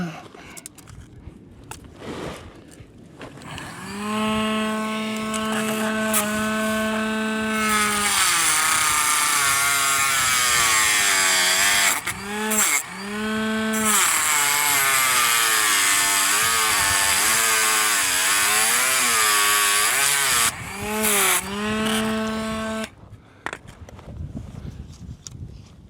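A saw trims a piece of wooden toy train track, a loud whining buzz running in sustained bursts with short pauses between cuts, close and alone without talk.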